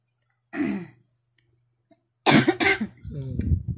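Coughing from allergic rhinitis: a single short cough burst near the start, then after a pause a louder pair of harsh coughs that run straight into a throat-clearing, voiced rasp.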